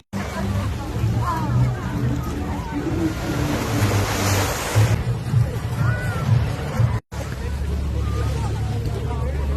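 Surf washing onto Palawan Beach in Singapore, a steady broad rush of waves with wind buffeting the microphone, people talking nearby over it and a brief dropout near the end.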